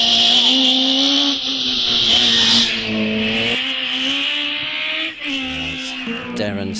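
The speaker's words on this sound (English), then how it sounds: "Darren Stevenson departs the start with his Nissan Pulsar GTI R" A Nissan Pulsar GTI-R modified series production car leaves the start line at a hillclimb at Wiscombe Park. Its engine is loud and close, revving up and down through rising gear changes.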